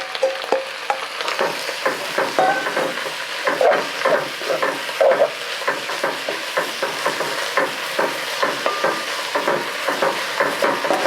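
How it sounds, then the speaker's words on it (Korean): Beef and seaweed are stir-fried in a pot, with a utensil scraping and knocking rhythmically against the metal over a steady close sizzle, and no talk. "이렇게 볶으시면 좀 어떤 정도 가열이 되면 고기를 넣으세요. 미역하고 같이."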